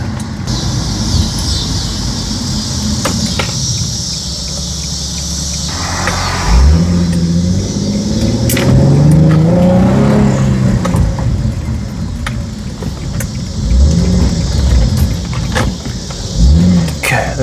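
A car drives along a road toward a car wash, with a steady cabin rumble and engine tones that rise and fall as it accelerates, plus occasional clicks inside the car.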